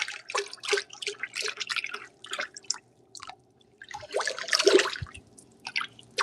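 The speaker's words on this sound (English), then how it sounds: "So we're going to mix that water we just added." Blue celadon pottery glaze is stirred with added water, giving soft, irregular wet sloshing and dripping sounds in short close bursts with brief pauses.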